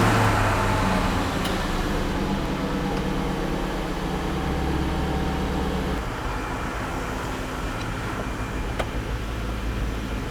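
Volkswagen Touareg on a road test after a transfer case repair, heard from inside as a steady low drone of engine and road noise with a shift in tone partway through, and no talking.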